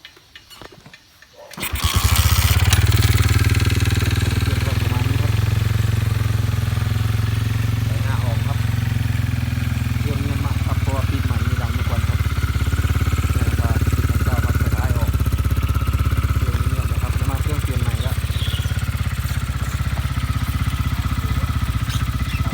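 A motorcycle engine starts and settles into a steady, rumbling idle close by, with faint voices speaking over it.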